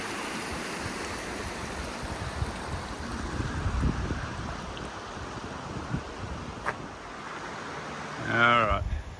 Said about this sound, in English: There's a spillway at St George's Lake.